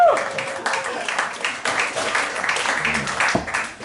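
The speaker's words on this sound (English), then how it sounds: "Round of applause for the Reader" Audience clapping at a live comedy show, a steady patter of many hands across a few seconds with some background voices.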